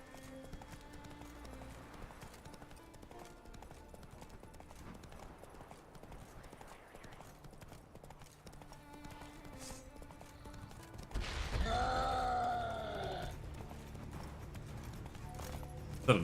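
Hooves of the horse Roach clip-clop faintly in The Witcher 3, a rhythmic patter under a low game soundscape. A louder burst of action sound swells briefly near the end.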